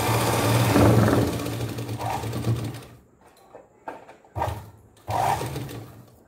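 A sewing machine stitches a cloth langot diaper for a newborn, running in a loud, close, continuous whir for about three seconds, then in short stop-and-start bursts.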